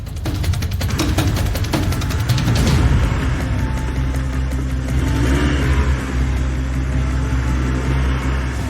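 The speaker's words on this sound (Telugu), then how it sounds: "ఏదో ఒకటి చేసి ఆ కార్ నాపండి" A car with failed brakes revs hard and speeds away, its engine roaring loud and close in a steady, sustained whir with a brief surge of revving early on and no talk over it.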